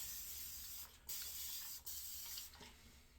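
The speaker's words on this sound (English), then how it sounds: "I'm gonna wet my face a little" Water splashing from a sink tap as a face is wetted mid-shave, a steady hiss-like spray with a few brief breaks, fairly quiet and with no talking.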